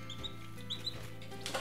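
Newly arrived baby chicks peeping faintly in short, high chirps scattered over a low steady background hum.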